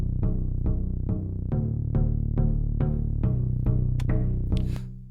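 Loose, unglued bass tracks in an Ableton Live beat, with no multi-band or glue compression: a steady run of evenly spaced low notes with sharp attacks, about two per second, loud and upfront with no talking.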